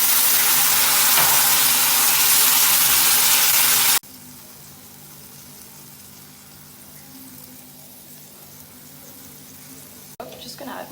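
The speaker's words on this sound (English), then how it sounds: "chicken stock goes in." Chicken stock hits a hot pan of sizzling chicken in a loud, steady burst of hiss and sizzle that drops suddenly after a few seconds to a quieter simmering crackle, with a brief clatter near the end.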